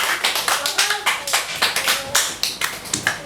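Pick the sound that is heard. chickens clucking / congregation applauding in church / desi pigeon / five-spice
congregation applauding in church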